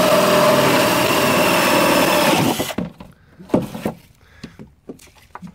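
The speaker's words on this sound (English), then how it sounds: "This is a 2-inch hole saw, and we just want to cut right through it." A 2-inch hole saw on a cordless drill grinds loudly and steadily through plastic pipe for a few seconds, then stops, followed by scattered knocks and handling clatter close by.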